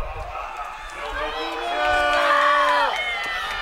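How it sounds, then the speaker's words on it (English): At a Portland Timbers U23 soccer match, a stadium crowd lets out a rising, unhappy collective shout and groan after an offside call, swelling to a peak before fading, with a commentator's voice over it. "despite the local crowd's unhappy response"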